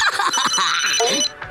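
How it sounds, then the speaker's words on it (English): Telephone ringtone as a call is placed to a relative in a cartoon family scene, a steady electronic ring with harmonic tones held for about a second and a half, with soft voice-like sounds beneath it. "Phone, call Ronnie Ann."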